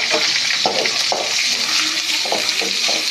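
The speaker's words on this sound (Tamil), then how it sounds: "அப்படி பூண்டு போட்டோடனே வெங்காயத்தையும் போட்டுக்கோங்க. இந்த மாதிரி சவுண்டு" Garlic and onion sauté in a hot pan with a loud, dense, steady sizzle, close up, broken by a few soft stirring scrapes.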